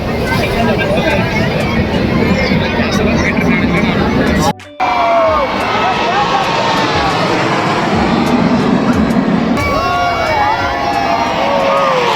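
An aircraft at a beachfront air show roars past in a loud, continuous rumble lasting nearly the whole clip, broken by a brief cut, with crowd babble and voices talking over it throughout.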